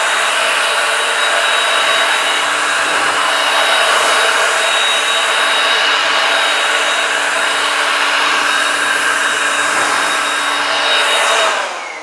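Powerful air blower drying freshly rinsed car paint, a loud, steady high-pitched whooshing rush that holds for the whole stretch and cuts off near the end, alone without speech.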